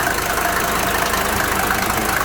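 A diesel car engine runs loudly and steadily with a rough, knocking idle, close up and continuous with no talk.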